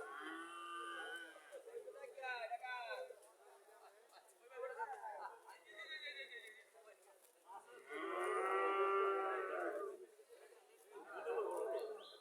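Several cows and calves at a cattle market in Comilla, Bangladesh moo in long, drawn-out calls, one especially loud and close, with distant voices chattering faintly in between.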